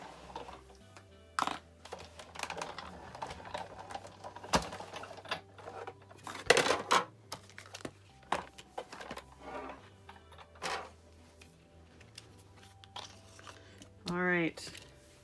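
A die-cutting machine cranks an embossing folder through for a card-making project, giving intermittent grinding and crunching bursts amid handling clatter, close up, with a voice talking at times.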